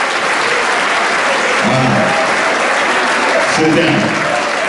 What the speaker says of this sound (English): Give an offense a round of applause.